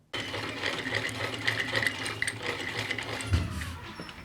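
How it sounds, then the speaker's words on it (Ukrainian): A fifty-year-old sewing machine runs continuously in a workshop, a steady close mechanical whir and rapid clatter with a slight jolt near the end, no voices. "Ці швейні машинці уже півстоліття, але вона робоча"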